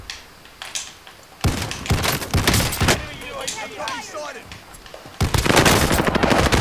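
Rapid bursts of loud, close gunfire and shotgun blasts ring out in a first-person shooter match, with clustered shots and sharp reports. A player's voice talks excitedly over parts of the action.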